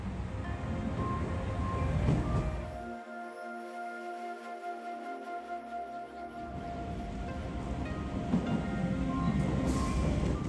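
Rumbling train noise at Matsue station in Japan, a loud passing rush that drops away briefly to a quieter hum, then swells again.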